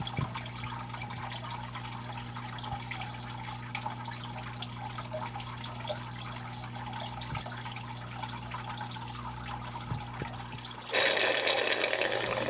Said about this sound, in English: Siphon's on, draining quick